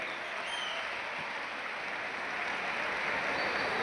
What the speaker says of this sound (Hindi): जोरदार तालियां अमन के लिए